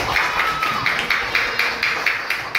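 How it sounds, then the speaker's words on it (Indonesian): Children in a coding class clap for their classmate Irsyad, a quick, regular, rhythmic patter of claps at moderate loudness with little talk. "Tepuk tangan buat Irsyad"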